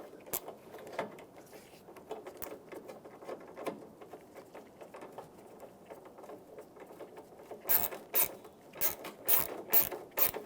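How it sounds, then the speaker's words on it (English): Rapid clicking of a ratchet with a 10 mm socket snugging a headlight assembly bolt on a 2000-2006 Toyota Tundra, faint and scattered at first, then several louder bursts of ratcheting near the end. "now I'm clear to start snugging up. 10mm socket."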